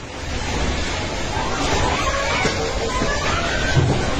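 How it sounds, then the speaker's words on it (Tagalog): A strong earthquake shakes a school building as ceiling panels and lights fall, heard as a continuous loud broadband roar and rumble with crashing debris throughout, no clear speech. "Kita rin kung gaano kalakas ang lindol sa kuhang ito."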